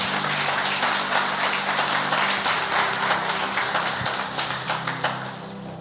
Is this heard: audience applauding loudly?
yes